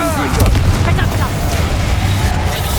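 Reductor blasting curse in the Hogwarts Legacy video game, a dense continuous rumbling blast with heavy low booms and crackling debris, loud and sustained throughout amid combat noise.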